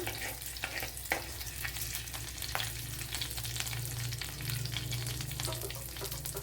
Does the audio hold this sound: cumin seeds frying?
yes